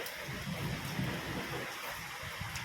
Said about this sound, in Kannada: ಮಳೆ ಫುಲ್ ಬರ್ತಾ ಇದೆ